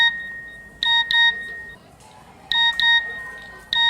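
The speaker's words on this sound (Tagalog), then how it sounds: "Eh yan nga cellphone mo, ang tunog ng tunog eh." A cellphone rings with repeated bursts of bright electronic beeping tones, two quick bursts separated by a short pause, fairly loud over a quiet room.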